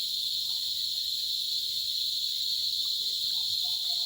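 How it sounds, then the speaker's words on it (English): Steady, high-pitched insect buzzing drones on without a break, a dense cicada chorus filling the air at an even level for the whole stretch. "You hear the cicadas."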